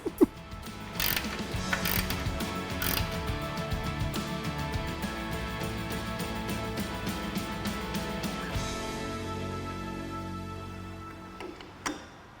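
A ratchet tightens a nut on the expansion tank of a 32 Ford Roadster kit car, rapid repeated clicking strokes up close that run for several seconds, then stop with a final few clicks.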